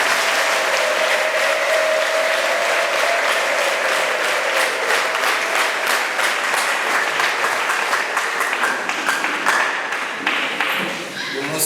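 A church congregation gives Jesus a long, dense round of applause that holds steady throughout, with a voice briefly audible over the clapping.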